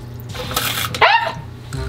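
Bidet attachment nozzle spraying water in a toilet room, a short loud burst of spray lasting about a second.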